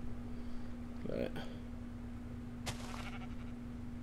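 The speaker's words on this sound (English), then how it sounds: "that's a sheep" A sheep in the Minecraft video game gives a short bleat about a second in, followed by a second brief bleat-like call near the three-second mark, over a steady low game hum with no talk.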